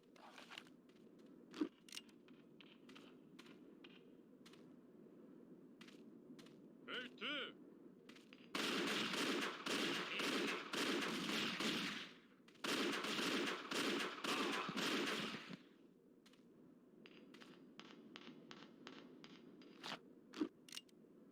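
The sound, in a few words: gunfire in video game Indiana Jones and the Infernal Machine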